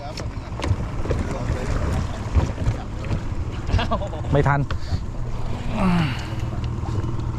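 A fishing boat motors along on the water off Sattahip with a steady low engine drone, wind buffeting the microphone, and people talking over it.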